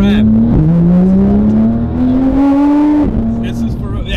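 A powerful Audi R8 supercar engine revs loudly and climbs in pitch, briefly dropping and surging again, a deep growling roar close up.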